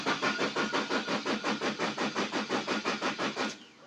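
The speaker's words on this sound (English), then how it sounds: "Cranking but doesn't start" Nissan X-Trail starter cranking in a fast, even rhythmic chug of about fourteen strokes without the engine catching, then cutting off abruptly into quiet.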